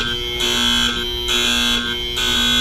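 A gas cabinet alarm buzzer sounds at a fluorine gas station, a loud, steady electronic tone pulsing on and off in regular cycles of about a second, with no voices.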